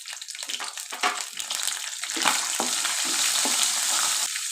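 Green chili, garlic, cumin, asafoetida and black pepper sizzle and crackle in hot oil for a mint chutney, a continuous frying hiss with stirring scrapes and occasional louder pops.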